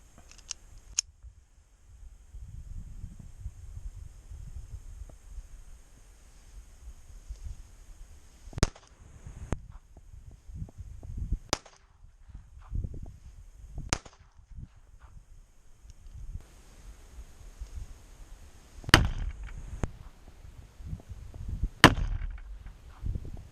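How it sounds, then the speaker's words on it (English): A Ruger LCP II .22LR pocket pistol fires Winchester Silvertip rounds into a ballistics gel block at 5 yards: a handful of sharp, isolated cracks spaced several seconds apart over a quiet background. "We are going to now do our ballistics gel test with the Winchester Silvertip. 3 shots, again at 5 yards on our target."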